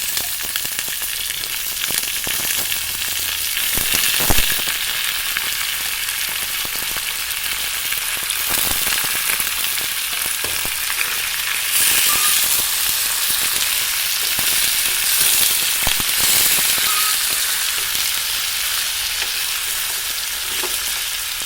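Steady, loud frying sizzle from chicken and masala browning in a pan for Assamese-style local chicken curry, with occasional stirring scrapes, continuous throughout and alone without speech.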